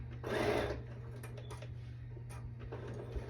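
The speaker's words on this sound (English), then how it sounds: "I'm gonna keep stitching all the way up to the mark of where my shoulder seam starts on the opposite side" A sewing machine stitches a shoulder seam on a cowl neck dress, giving a short burst of rapid mechanical whirring followed by faint clicks and handling taps, quiet and close.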